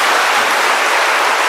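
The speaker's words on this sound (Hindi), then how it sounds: "बजा दे ताली।" An audience claps together in a dense, even burst of applause, loud and sustained across the short moment, with no talking over it.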